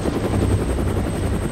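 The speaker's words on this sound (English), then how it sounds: "Equipped with UH-1 Hueys, the 1st Cavalry is designed to insert soldiers into combat using helicopters." A UH-1 Huey military helicopter of the 1st Cavalry in Vietnam, with a loud, steady rotor thump and engine rumble close by, continuous and with no voices.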